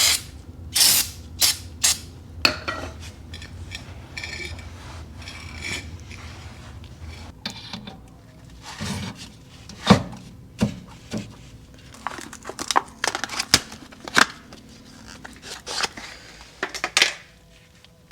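A brake drum on an Accord coupe being cleaned during a five-lug swap, with spray bursts, scraping and sharp metallic clinks and taps scattered irregularly, close in a garage.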